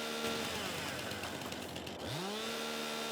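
A chainsaw removing a tree stump in Farming Simulator 22, its engine droning loudly and continuously throughout, revving up again near the end.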